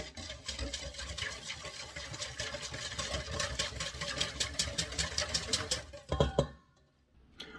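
A whisk mixes a brown sugar mixture in a bowl with rapid, continuous clicking strokes for several seconds, then slows to a few scattered taps before stopping.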